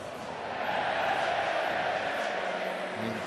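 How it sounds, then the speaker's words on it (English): An enormous crowd cheer rises from the Western Terrace at a Yorkshire versus Lancashire T20 Blast cricket match at night, a broad roar swelling and holding for a few seconds. "Greeted by an enormous cheer from the Western Terrace, who are having a good night."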